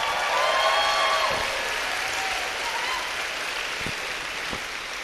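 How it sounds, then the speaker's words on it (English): Graduation audience applause fills the room as a loud, steady roar of many hands clapping, holding strong throughout with only a slight fade near the end. "If we can give them a round of applause."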